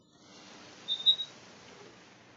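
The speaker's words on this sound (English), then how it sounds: "Ning whistle ang referee." A referee's whistle at a women's cup football match gives a few quick, faint shrill blasts near the middle, heard from a distance over a soft crowd and field murmur.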